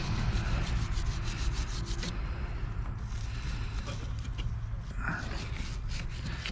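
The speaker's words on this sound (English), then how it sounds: "Take a little sandpaper to the inside of that." Sandpaper rubbing the inside of a car battery terminal on a 2008 Saturn Sky Redline, a loud, steady scraping hiss that continues without pause throughout.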